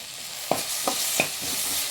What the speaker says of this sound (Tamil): தக்காளியும் கொஞ்சம் நேரம் வதங்கிட்டோம்.